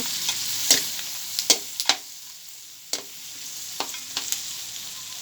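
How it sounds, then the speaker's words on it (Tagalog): Pork gisa stirred and fried in a pan, with a steady sizzle broken by sharp scraping strokes of a utensil at an irregular pace, close and fairly loud. "pork stock a while ago. The pork stock."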